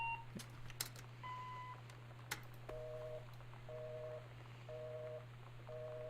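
A telephone answering machine in the video game Gone Home gives a series of short electronic beeps: a few single tones, then four evenly spaced double-tone pairs over a steady hum.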